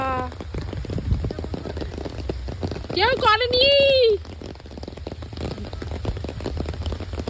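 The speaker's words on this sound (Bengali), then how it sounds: "কি বৃষ্টি হচ্ছে সেই রাত থেকে বাবা" Steady rain patters densely all around, loud and continuous from start to finish, while a person speaks briefly in the middle.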